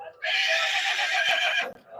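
A native cross-breed horse at an annual temple fair market in Anthiyur whinnies loudly and close by in one long, shrill, quavering call lasting over a second.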